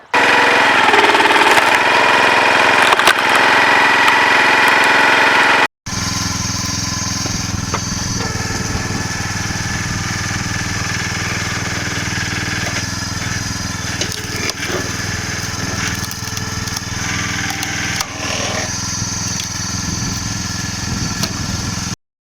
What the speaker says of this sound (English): we're just going to split them using the wood splitter